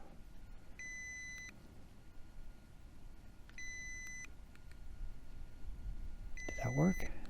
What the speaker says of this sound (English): it's continuously beeping at me